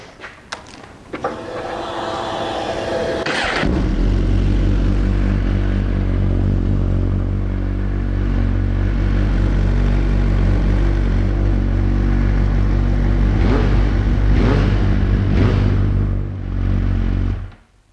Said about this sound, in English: And we fire the engine up.